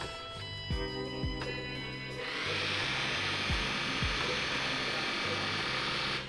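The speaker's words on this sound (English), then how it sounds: "Oh, I turned on the vacuum cleaner." A vacuum cleaner switches on partway through and keeps up a loud, steady whooshing roar, laid over a rhythmic electronic game soundtrack with repeated thumping beats.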